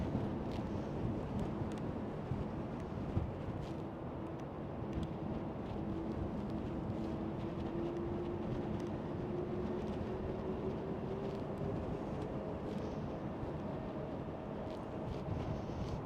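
Delta Airlines Airbus A330 airliner at Schiphol airport on a windy day, a steady broad jet rumble with a slowly sliding engine whine, heard from a distance under constant wind noise, no talk.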